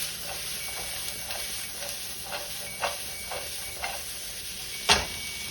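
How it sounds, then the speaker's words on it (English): Vegetables sizzle in an oiled pan for lo mein, a steady broadband hiss of frying with soft stirring scrapes and a sharper clack near the end, heard close with no talking. "So, vegetables into the pan."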